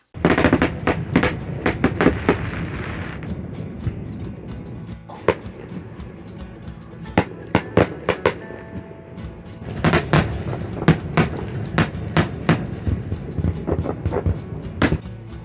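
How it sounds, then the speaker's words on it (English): Fireworks burst behind a boat on Narragansett Bay, Rhode Island, on an evening outing, a series of loud sharp booms and crackles, some in rapid clusters, others spaced apart, echoing over the water. "my birthday evening was capped off by fireworks right behind the boat."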